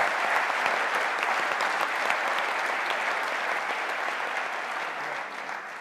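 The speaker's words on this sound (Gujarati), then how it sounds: "જોરદાર તાળીઓ થઈ જાય" An audience at a Gujarati stage talk event claps in sustained, dense applause that stays steady and loud throughout, easing slightly near the end.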